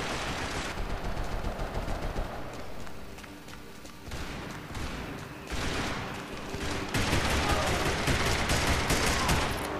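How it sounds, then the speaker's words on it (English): Rapid gunfire in multiplayer matches of the video game Max Payne 3, loud overlapping bursts and automatic fire that keep going throughout with brief lulls, a dense chaotic firefight. "Who's shooting me?"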